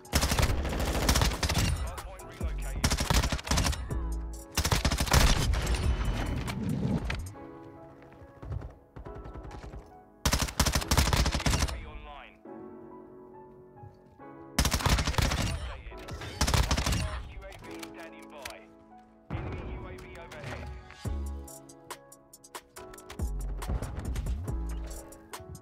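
Bursts of rapid automatic gunfire from a Lachmann Shroud in Modern Warfare 2, loud and close, come in several long volleys separated by short quieter gaps.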